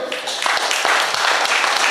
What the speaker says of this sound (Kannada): ದಯವಿಟ್ಟು ಜೋರು ಚಪ್ಪಾಳೆ ಕೊಡಿ ಅವರಿಗೆ